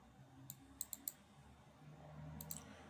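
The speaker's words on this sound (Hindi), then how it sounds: "मैं इसको क्लिक कर दूंगा" Computer mouse clicks to run the Power BI Desktop installer: a quiet run of sharp, close clicks, three in quick succession and then another pair a moment later, over faint room hiss.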